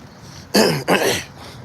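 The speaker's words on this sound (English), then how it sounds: "Clear my throat" A single throat clearing, two harsh rasping bursts close together, loud and near, with quiet background before and after.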